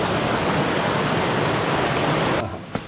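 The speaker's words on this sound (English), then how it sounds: "All the way up, we've had this babbling brook alongside us." A babbling mountain brook runs beside a steep, rocky trail on the way up Wheeler Peak in New Mexico, giving a steady, loud, close rush of water that cuts out abruptly near the end, leaving a faint tap.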